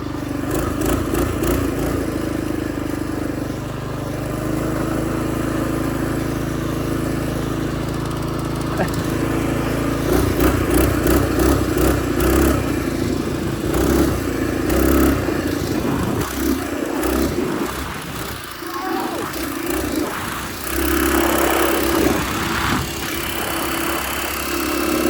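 A small motorbike engine, on a broken bike bought from Tractor Supply, runs throughout with a buzzy, lawnmower-like drone. It revs and changes pitch several times while people talk nearby.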